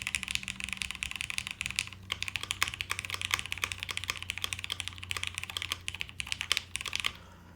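Continuous close-up typing on a plateless mechanical keyboard, keys clacking rapidly with a deep, thocky tone and a few louder strikes. No one talks.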